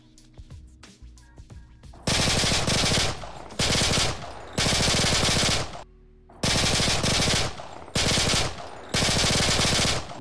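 G18 machine pistol in the video game Modern Warfare 2 firing long, loud full-auto bursts, about six sustained strings of rapid shots separated by short pauses, with no talking.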